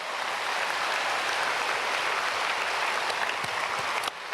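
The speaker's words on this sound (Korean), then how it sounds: "크게 박수로 환영하겠습니다." A church congregation at a Sunday worship service applauds to welcome new members, a steady, full wash of many hands clapping throughout, tapering slightly at the very end.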